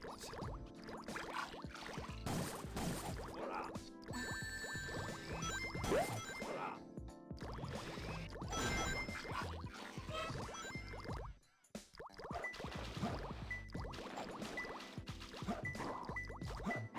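Liquid pouring and bubbling water in a 2001 video game, with bright chiming dings and tinkles over a busy game soundtrack, steady and fairly loud throughout, briefly cutting out near the end.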